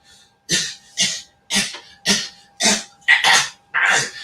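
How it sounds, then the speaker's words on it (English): A run of seven hard, rough coughs in quick succession, evenly spaced, close and loud, with the last few coming harsher and more strained. "you see how I be coughing like a motherfucker, choking like a motherfucker"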